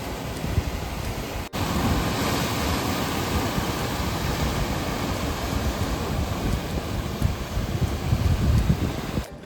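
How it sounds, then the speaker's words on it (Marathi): Sea waves wash against Sindhudurg sea fort near Malvan, heard as a steady, dense roar of surf that fills the whole stretch without voices. "या लाटा"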